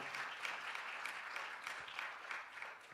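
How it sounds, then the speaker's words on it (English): A keynote audience claps in a continuous, evenly textured round of applause that sounds somewhat distant and soft throughout. "that was a great round of applause"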